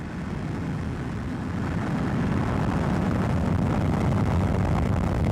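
Atlas launch vehicle lifting off on ascent, a steady, loud, broad roar that builds slightly and holds without break, with no voices.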